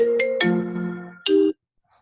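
A phone ringtone plays a short electronic melody: two bright tonal notes, a longer sustained tone, then one more clear note before it cuts off into near silence, loud and close.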